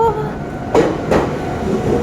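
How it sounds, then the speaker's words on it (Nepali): A train rolls into a station with a steady, close rumble and scattered clanks of wheels and cars, heard over the background noise of the platform. "अब कहाँको होला यो ट्रेन आएको?"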